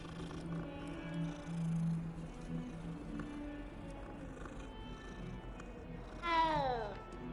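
A cat meows while being petted in Hogwarts Legacy, one clear rising-and-falling meow near the end, with someone talking quietly over faint game ambience before it.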